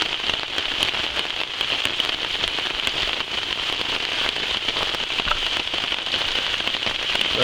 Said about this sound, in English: now you just listen to the rain